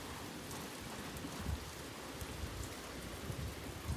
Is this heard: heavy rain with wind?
yes